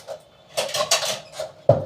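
A bowl and kitchen utensils are handled, producing a few close clinks and knocks of dishes and cutlery in quick succession, ending with a sharper clatter.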